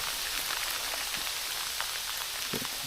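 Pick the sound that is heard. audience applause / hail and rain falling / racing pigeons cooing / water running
hail and rain falling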